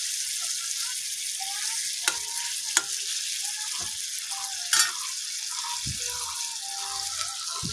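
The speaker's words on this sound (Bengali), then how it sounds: "এটাকে আরেকটু হতে দিব, আর একটু ভেজে আমি নামাবো এটাকে" Tomato pickle for a spicy chutney fries in a pan with a steady hiss and crackle, broken by a few sharp spoon scrapes and clinks as it is stirred, with no voices.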